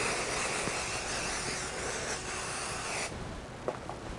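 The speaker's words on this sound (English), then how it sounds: "I'll spray one good spray adhesive right along the bottom." Spray adhesive hissing from an aerosol can onto quilt fabric, a steady close spray lasting about three seconds before cutting off, followed by a faint rustle of handling.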